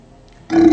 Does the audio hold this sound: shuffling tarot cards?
no